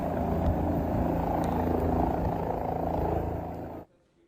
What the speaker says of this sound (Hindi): यही वजह है कि हेलीकॉप्टर से रेस्क्यू ऑपरेशन किया जा रहा है।